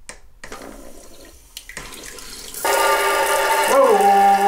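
A bidet spraying water on its rear wash setting: a few quiet clicks and short hisses, then a loud, steady jet of spray that starts partway through and keeps going to the end, with a brief shift in pitch near the close.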